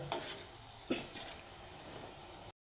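MTR gulab jamun dumplings frying in oil give off a faint, soft sizzle, broken by a few light scraping stirs of a utensil against the pan.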